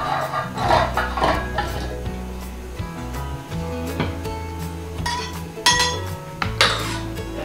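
Apple pieces dropped one by one into a mixer jar for a milkshake: a series of close, hollow knocks and clinks against the jar, spaced irregularly, with faint rattling between them.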